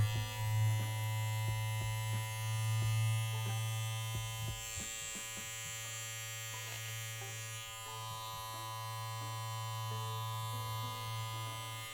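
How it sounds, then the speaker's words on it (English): An electric hair clipper runs with a steady, loud buzzing hum while oil goes onto the middle, edges and sides of its blade. Faint clicks and taps sound over the continuous motor drone, and no one speaks. "turn on your clipper and apply oil in the middle of your blade"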